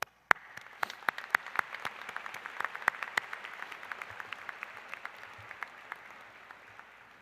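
Applause from the audience at an in-person high school graduation ceremony, a steady wash of many hands clapping with sharper individual claps standing out, lasting several seconds and tapering slightly at the end.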